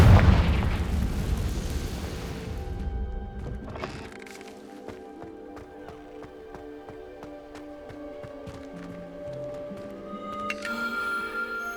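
Confringo explosive spell cast in Hogwarts Legacy: a loud blast at the start that rolls into a decaying rumble, followed by softer magical tones and chimes over a quiet game soundscape.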